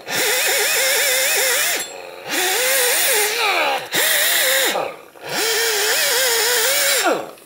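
An abrasive disc on a power tool cleaning a Jeep Compass brake hub, loud whining runs of a few seconds each, the pitch dipping and rising under load, separated by brief pauses.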